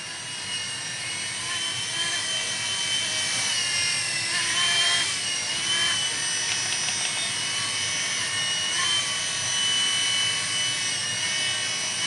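A Blade mSR micro RC helicopter hovers nearby with a steady, high-pitched whine of its small motor and rotor. The tone shifts slightly throughout, and a few faint clicks from trimming the transmitter sit under the drone.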